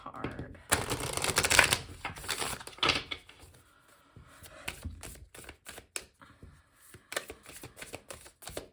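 Tarot cards are shuffled by hand during a card reading, a close riffling and flicking with soft slaps and taps, loud at first and then quieter and choppy.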